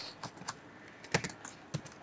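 C code is typed on a computer keyboard, with a few distinct, close key clicks in an uneven rhythm against quiet room tone.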